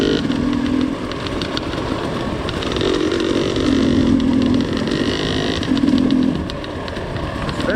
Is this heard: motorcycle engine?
yes